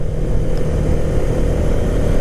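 A 2023 Hero Karizma XMR motorcycle riding along with a steady, loud engine drone and constant road and wind rumble while shifting gears, no distinct pauses.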